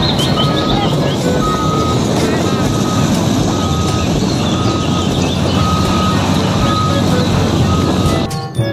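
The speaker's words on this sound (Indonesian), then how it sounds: "Yang ini ada mobil truk tambang." A toy mining truck sounds regular electronic reversing beeps, loud and close, repeating steadily over a constant motor-like hum until it stops near the end.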